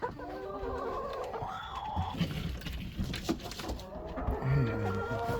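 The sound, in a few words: chickens clucking in a coop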